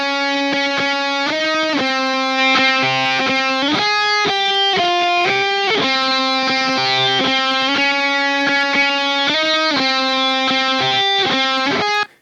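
A distorted electric guitar plays a fast lead line of sustained, saturated notes with bends, loud and continuous, alone, ending abruptly.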